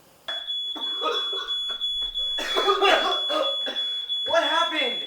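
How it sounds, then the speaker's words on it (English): An alarm rings steadily as a sustained high electronic tone, moderately loud and running through the whole scene while several people talk and react over it. "Can you turn that alarm off?"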